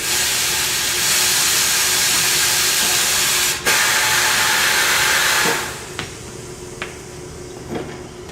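A tire changer machine's bead breaker fires as the pedal is pressed, a loud, steady pneumatic hiss that holds for several seconds, then cuts off abruptly, leaving a few sharp clacks and a short burst of air.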